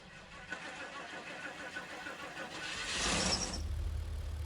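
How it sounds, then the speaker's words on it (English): An old, rare pulling tractor engine turns over and catches, its low chugging growing into a louder, rougher running idle, close by and with no talk. "This is quite literally the definition of what a pulling tractor sounds like, in my opinion, when it's staging"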